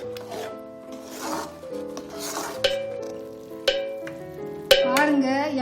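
Gongura leaves frying in oil for a pickle, stirred steadily in a pan: continuous close sizzling with scraping strokes and occasional sharp clinks of the utensil against the pan.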